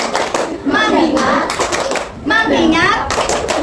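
Schoolchildren in a classroom perform a focus clapping routine, with bursts of rhythmic hand claps in two main phrases alongside young voices chanting in unison, close and loud.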